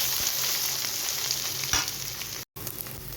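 Steady close sizzling and crackling from a pan of tempering for coriander thokku, with spices spluttering in hot oil, heard alone without any voice.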